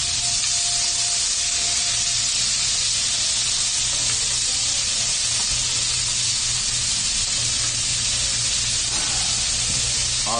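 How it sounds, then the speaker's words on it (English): Vegetables sizzle loudly and steadily in a hot pan, a dense, continuous hiss of frying that fills the whole stretch with no talking. "Oh, listen to that sizzle."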